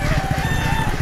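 Desi backyard chickens clucking and murmuring steadily close by while drinking water from a pan, a busy flock with low rhythmic calls and a faint background hum.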